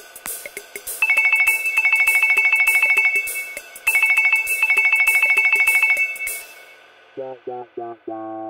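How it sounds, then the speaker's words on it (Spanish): A new mobile phone plays a bright electronic ringtone in two long bursts of rapid repeating beeps, loud and close, followed by a few short lower tones at the end. "Lo primero es elegir un tono de llamada."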